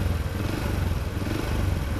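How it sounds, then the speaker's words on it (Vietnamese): Honda Dream motorcycle engine running just after starting, with a steady rough knocking clatter under the idle, close and continuous with no talking. "nổ máy lên là nó cộc cộc cộc nó giọng cái lóc nè"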